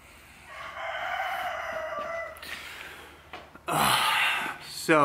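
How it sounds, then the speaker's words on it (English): A rooster crows nearby at 3:45 in the morning, a long rising call, followed by a second loud crow near the end, with some quiet background sound. "For some reason, there's a rooster crowing."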